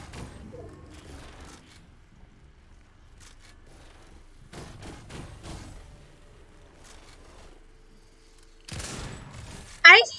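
Sniper rifle shots crack out in a video game as a few separate sharp bursts with quiet gaps between, ending on a louder close shot, while a voice talks intermittently.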